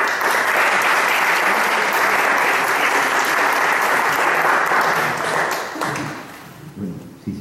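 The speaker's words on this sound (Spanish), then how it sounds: "Un cordial aplauso." Audience applause at an evening literary reading at a museum, dense and sustained for several seconds before thinning out and fading near the end, with no talk over it.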